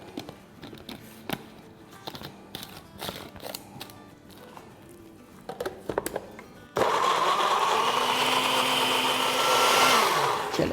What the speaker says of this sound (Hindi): और अब इसको ब्लेंड करेंगे।